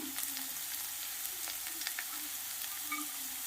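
Green chillies and curry leaves frying in hot oil for a dry fish thokku, a soft continuous sizzle with light crackles, close but fairly quiet, alone.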